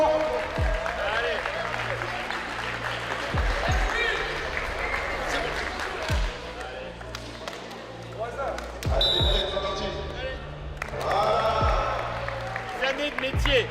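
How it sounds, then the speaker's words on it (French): Crowd applause at a neighbourhood football tournament in Meaux, clapping and crowd noise mixed with voices talking, thumping ball bounces and rising bursts of cheering. "Applaudissements, applaudissements."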